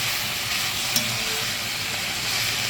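Brussels sprouts and asparagus stirred in a covered pan: a steady broadband sizzle and hiss running throughout, with one brief clink of the spoon about a second in.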